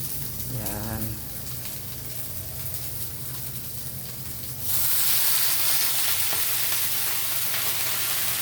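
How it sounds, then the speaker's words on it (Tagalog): Eggplant sautéing in a pan for ginisang talong, a steady close sizzle that swells louder midway, with a brief voice early on. "Ginisang talong."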